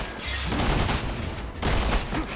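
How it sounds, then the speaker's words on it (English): Grenades go off in Resident Evil 6 as a burst of loud, close blasts, with two dense clusters of booming noise separated by a short gap. "Oh, he threw grenades!"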